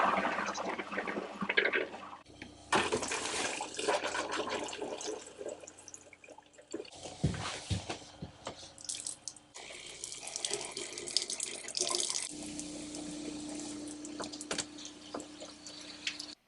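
Liquid antifreeze runs steadily from the faucets of a 2018 Jayco Greyhawk RV being winterized, a continuous splashing stream into sinks and toilet that starts and stops between taps, close and moderately loud.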